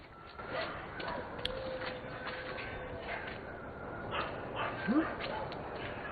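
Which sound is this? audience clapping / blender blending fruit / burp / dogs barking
dogs barking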